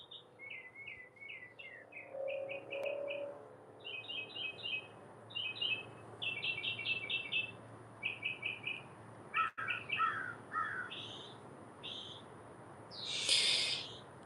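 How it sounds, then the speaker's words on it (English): Crows call in a garden among other birds. High chirping notes come first, then a few harsher, lower caw-like calls follow in short clusters over steady outdoor background noise. "There are those darn crows again. I like crows,"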